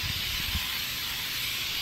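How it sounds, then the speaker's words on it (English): Leather cleaner sprayed onto a leather seat inside a C5 Corvette, a loud, close, continuous hissing mist that holds steady throughout, with a few low thumps near the start. "So I'm gonna go ahead and spray the leather down with the cleaner."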